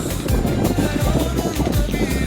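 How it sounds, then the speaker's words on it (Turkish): Light wind blows steadily across the microphone at a seaside amusement park, giving a continuous breezy rush with low buffeting and faint background activity, no speech heard. "Hafiften de rüzgar var."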